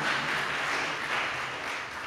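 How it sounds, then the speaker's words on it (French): A crowd at a school competition claps for one school in a brief, dense burst of applause that stays at a steady level throughout, with no distinct shouts standing out. "Les NAM, merci d'acclamer les NAM."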